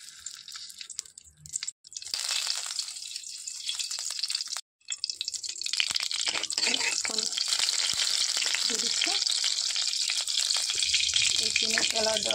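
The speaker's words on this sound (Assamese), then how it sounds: "মই অকণমান ঘি ল'ম আৰু কেৰাহীত সেইটো ঘিৰে বনাম" Ghee heats and sizzles in a kadai with a steady bright frying hiss that starts after a short quiet patch, broken by a brief pause, then continues loud with occasional stirring clatter.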